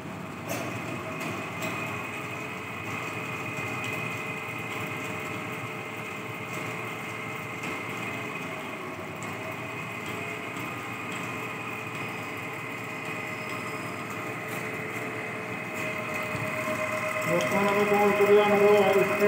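A DC motor running in a laboratory armature-control speed experiment, a steady mechanical hum with faint tonal whine holding level for most of the stretch, then growing louder near the end.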